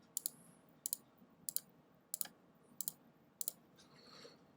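A computer mouse clicks while filling areas in Photoshop, sharp quiet double-clicks in pairs spaced roughly every half second over a faint room hiss.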